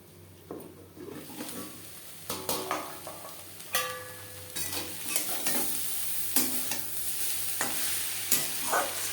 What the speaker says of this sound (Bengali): দু 3 মিনিট নাড়াচাড়া করে নেওয়ার পর গ্যাসের ফ্লেমটাকে লোতে করে দেবো